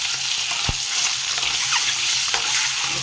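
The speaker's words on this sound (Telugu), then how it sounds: "ఎగ్స్ చూసారా ఫ్రై అవుతున్నాయి" Eggs seasoned with salt, chilli powder and turmeric sizzle steadily in a hot pan, with a spoon tapping and scraping now and then as the mixture is stirred, close and unbroken by speech.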